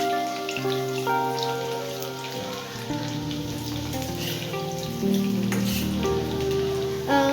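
Homemade French fries bubble in hot oil with a dense, rain-like crackling sizzle that continues throughout beneath tuneful background music.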